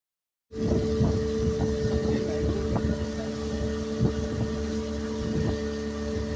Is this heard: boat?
yes